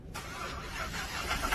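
A car engine, run without oil, cranks and catches after a brief silent start, then holds a rough, rising mid-pitched roar that grows slightly louder, close and unaccompanied by voices.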